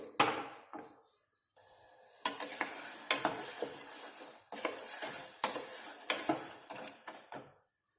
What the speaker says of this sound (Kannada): ಈ ಬೆಲ್ಲವನ್ನು ಚೆನ್ನಾಗಿ ಕರಗಿಸಬೇಕು.